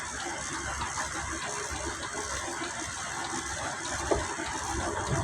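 Motorcycle pushed through deep flood water on a street: constant rushing, sloshing water with a low engine hum, loud and continuous, with a brief splash near the end.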